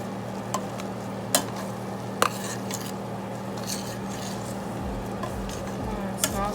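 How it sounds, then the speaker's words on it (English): Garlic with cayenne, turmeric and curry powder stirred in a hot pan with mushroom, a low steady sizzle broken by a few sharp scrapes and taps of a utensil, no voices. "just stir it up"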